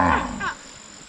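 A small carabao, or water buffalo, lets out one brief, low, throaty moo up close, which fades within half a second into quiet background.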